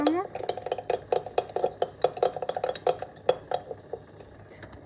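A utensil stirring food in a bowl, with a rhythmic run of bright clinks and scrapes against the bowl, roughly a dozen quick strokes close by at moderate loudness.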